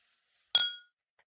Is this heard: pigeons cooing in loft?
no